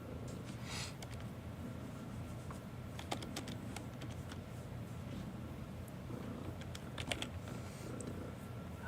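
Fingers tap a computer keyboard in quick irregular bursts, one-handed, close by, while a cat purrs steadily underneath.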